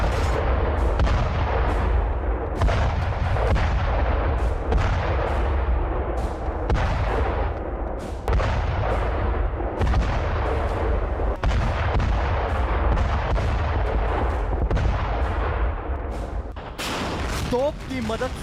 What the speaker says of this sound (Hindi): एक आर्टिलरी गन यानी तोप जमीनी जंग का नक्शा बदल सकती है।